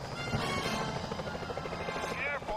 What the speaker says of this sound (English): Security choppers are bad